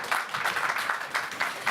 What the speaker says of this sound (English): To all of you, this is your round of applause